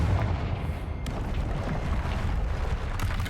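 A Confringo fire spell detonating in Hogwarts Legacy, a dense rumbling explosion that rolls on for a few seconds, loud and close, with a brief sharp burst in the middle.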